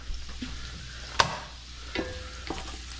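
Shallot frying in hot bacon grease gives a low, steady sizzle with a few sharp stirring clicks and scrapes against the pan, close and alone.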